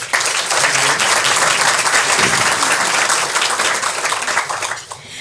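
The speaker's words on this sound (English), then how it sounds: "Let's give them a round of applause." An audience at a community monthly gathering bursts into dense, loud applause for sponsors, a steady wash of many hands clapping close by that tapers off near the end.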